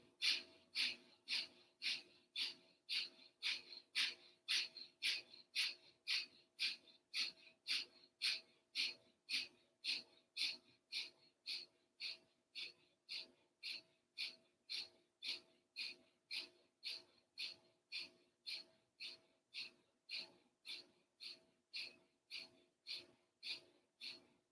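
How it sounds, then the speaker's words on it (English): Rhythmic fast breathing in a yoga session, sharp forceful exhalations repeating evenly about every half second, close and clear, with no talk over them. "And again, we'll do fast breathing."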